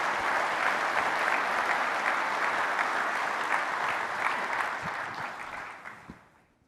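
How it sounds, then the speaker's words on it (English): A conference audience applauding at a corporate event, dense sustained clapping from a large crowd that holds steady and then fades out toward the end. "let's give this group a big round of applause for the time they've given"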